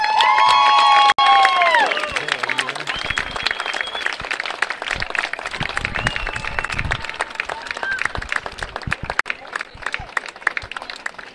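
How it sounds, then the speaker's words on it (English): A crowd claps and cheers for Coach Hiley, a field hockey coach, at a school celebration. Shouting voices and whoops ride over dense, steady applause near the start, then the clapping carries on strongly throughout. "Please give Coach Hiley a round of applause for this accomplishment"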